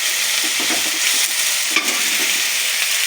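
Onion and garlic frying with spices in hot oil give a loud, steady sizzle, with stirring throughout and no voices.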